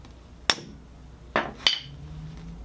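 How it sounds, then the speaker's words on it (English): Three sharp metallic taps ring out, a hammer striking a wrench fitted on a Mazda Miata steering rack, the first alone and the last two close together, each with a short ringing decay. "just tap the wrench with a hammer"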